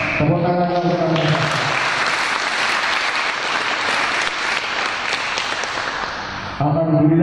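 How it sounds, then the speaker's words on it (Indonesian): An audience bursts into sustained applause for martial arts athletes at a Tarung Derajat event in Kediri, loud dense clapping that fills the space, with a voice heard briefly at the start and end. "Tepuk tangan untuk kami"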